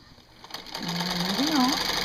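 A Singer 15 sewing machine quilts wavy lines with a walking foot, a steady quiet mechanical whir that builds up and keeps running while a voice speaks softly over it.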